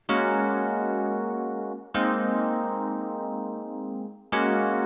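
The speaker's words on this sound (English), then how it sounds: "So I've added the real DX7, and it sounds like this." A bright Yamaha DX7 FM electric piano sounds three sustained chords in turn, each struck cleanly and ringing out before the next, moderately loud with no voices.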